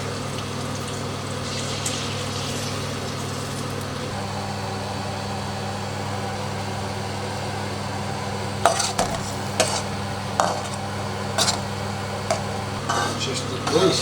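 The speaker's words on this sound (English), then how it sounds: "Just deglazing the pan" Utensil scraping the bottom of a pan while deglazing sautéed onions with beef stock for onion gravy, a steady simmering hiss with a burst of close clinking scrapes near the end, under a speaking voice.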